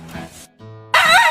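A dog gives a couple of short, loud barks and yips close by, with a brief quiet gap and a whining, tonal sound before a sharp final bark.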